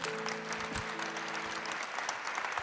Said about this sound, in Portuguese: A igreja aplaude ao Senhor.